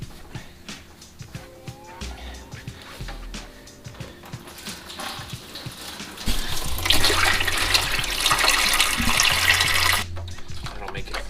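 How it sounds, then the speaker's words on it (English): Liquid pouring and splashing as coolant drains out of a car radiator, a trickle at first that swells into a louder, steady gushing stream midway before easing off, with faint knocks and handling noises around it. "I'm trying to pretty much just empty the radiator"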